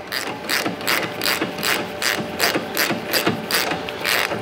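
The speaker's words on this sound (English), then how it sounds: "Tighten the lower up." A ratchet wrench clicks in quick, even bursts while tightening the lower vertical link bolt on a Brembo-equipped Mustang rear suspension, close and clear with no voices.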